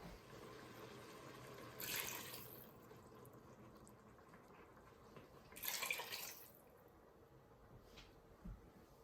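Water is poured from a cup into a pot of vinegar for habanero hot sauce in a kitchen, two short splashing pours a few seconds apart, then a faint drip, quiet and close.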